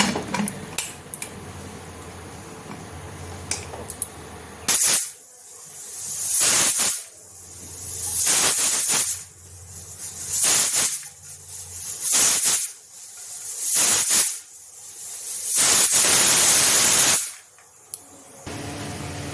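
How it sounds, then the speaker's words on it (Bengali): A pressure cooker boiling chickpeas on the stove lets out repeated loud hissing whistle bursts of steam, about six in a row at fairly regular intervals, close by with no talk. "এখানে আমি 3টে সিটি দিলেই সিদ্ধ হয়ে যাবে।"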